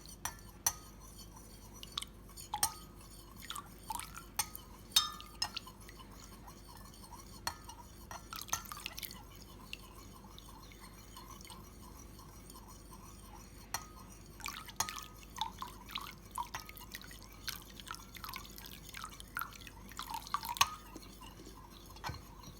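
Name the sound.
adding gum turpentine a bit at a time to beeswax mixture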